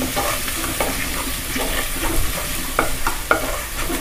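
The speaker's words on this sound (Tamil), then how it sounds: "நல்லா இது மாதிரி வதக்கிக்கலாம் எண்ணெயிலேயே" Masala sautéing in oil in a pan for fish head curry, a steady sizzle with a spoon stirring and occasional sharp scrapes against the pan, close and fairly loud, no talking.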